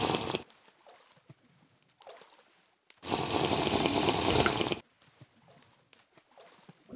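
Water flows in the Minecraft video game as a steady, loud rushing wash that swells for about two seconds in the middle, with quieter ambient game noise before and after.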